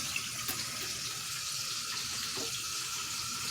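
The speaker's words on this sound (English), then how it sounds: "Wash your hands again. Get all that built up stuff off your hands." Running tap water splashes steadily into a sink as hands are rinsed clean after handling battered fish, a continuous close hiss with small bursts of splashing and no talk.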